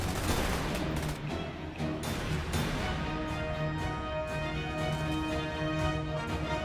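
Sniper gunfire in the Starship Troopers: Terran Command strategy game comes as a dense, loud barrage of overlapping shots and battle noise. It runs continuously with no pauses and no talking.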